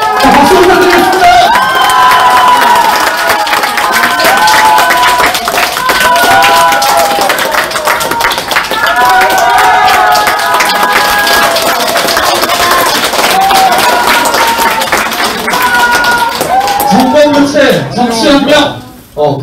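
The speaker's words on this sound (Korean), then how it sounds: "자, 박수 부탁드리겠습니다." A crowd applauds and cheers at a presidential campaign headquarters launch ceremony in Incheon. Continuous loud clapping with shouts runs throughout, an amplified voice speaks over it, and the noise drops off at the very end.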